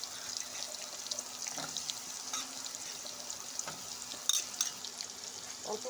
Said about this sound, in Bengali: ভাজা হয়ে গেছে, এবার আলু দিয়ে দিব।